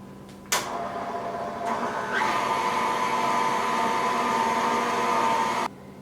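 Electric mixer whirring steadily as vanilla extract is beaten into butter cookie batter, starting with a sharp onset and running loud and continuous for about five seconds before stopping abruptly.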